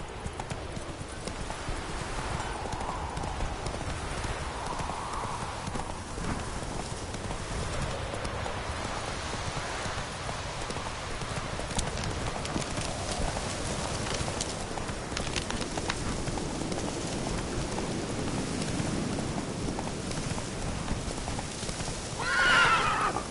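The horse Roach trots along in The Witcher 3, with steady clip-clop hoofbeats throughout, a few neighs and faint bird calls in the background.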